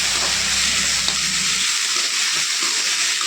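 Onions frying in a pan, a loud steady hiss and sizzle close up, with a low rumble fading partway through and no voices.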